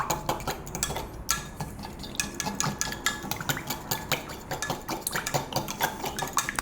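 A spoon stirs a burger sauce mixture in a bowl, giving steady rhythmic scraping strokes with light clinks against the side, close and moderately quiet, with no talking.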